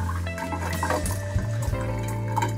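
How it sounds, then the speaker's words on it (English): Tannic acid toning solution is poured into a tray to tone a cyanotype print. A steady, continuous liquid pour runs close by over a low hum, with no talking. "Now I will put the tannic acid in."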